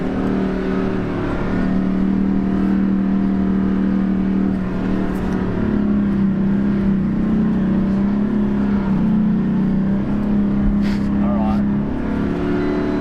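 A Toyota Land Cruiser 79-series four-wheel drive labours hard across soft beach sand, its engine droning loud and steady with a strong low rumble that swells slightly as it pushes on, close and continuous throughout.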